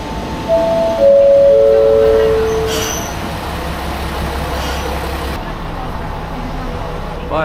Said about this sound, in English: I'm on the train to Aso Station.